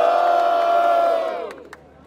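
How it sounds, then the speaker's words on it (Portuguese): A crowd at a Brazilian rap battle, Batalha do Coliseu, cheering and shouting loudly together in one sustained roar that fades out, followed by a couple of brief isolated yells. "Quem achou melhor? As rimas de Jump, faça barulho"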